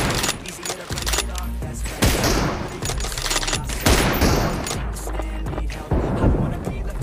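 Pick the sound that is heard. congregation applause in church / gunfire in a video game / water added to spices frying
gunfire in a video game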